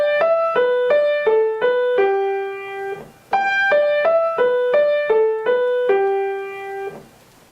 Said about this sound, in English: So on the piano it sounds like this.